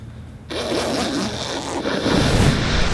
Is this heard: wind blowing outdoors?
no